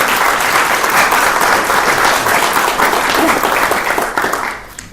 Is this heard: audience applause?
yes